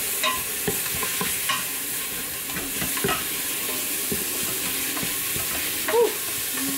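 Onions with onion powder, cumin and garlic powder sizzle in an Instant Pot while a utensil stirs them, a steady hissing fry with scattered scraping clicks.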